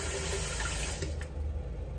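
Water runs from a spigot to rinse a razor, a loud continuous gushing stream with slight splashing variations.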